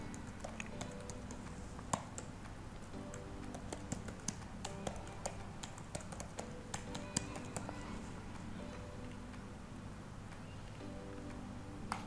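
Keys on a computer keyboard tap in an irregular stream of soft clicks while answers are entered, faint and close with a low background hum.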